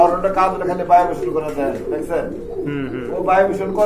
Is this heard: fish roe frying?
no